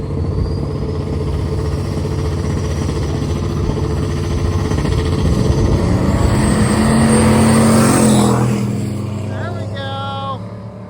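Loud Ford drag race car roaring at a drag racing event, a steady heavy engine note that swells as it launches and pulls away around eight seconds, followed by a few sharp pops as it fades into the distance.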